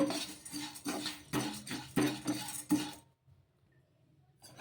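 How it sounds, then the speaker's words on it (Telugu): Spoon scraping and clinking in a kadai as oats are stirred and dry-roasted, a series of rhythmic metallic strokes for about three seconds, then near silence. "ఇవి ఒకసారి బాగా కలిపేసుకొని కొద్దిసేపు వే వేడి చేసుకోవాలన్నమాట"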